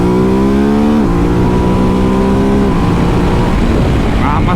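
A 2022 Ducati DesertX motorcycle engine drones loudly and continuously while riding, its pitch sliding down through gear changes and then settling, with heavy wind rush throughout.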